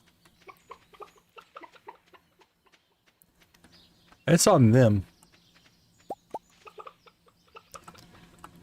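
Chickens cluck softly in the farming game Stardew Valley, with short, sparse clucks and small blips scattered across the scene, broken by one loud burst of a squawking, wavering call, while a person briefly speaks.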